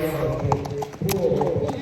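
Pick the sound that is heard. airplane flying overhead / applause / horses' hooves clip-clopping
horses' hooves clip-clopping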